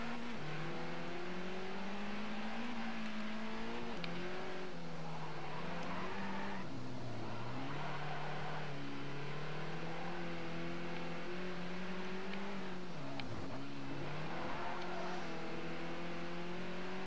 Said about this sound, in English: Like I said, this is a rally car. It can stand and go off-road.